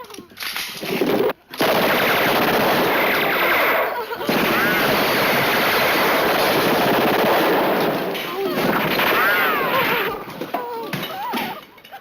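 Uzi submachine guns fired by Israeli commandos in the 1976 TV movie Raid on Entebbe rattle in loud, sustained bursts with short breaks, and voices shout near the end.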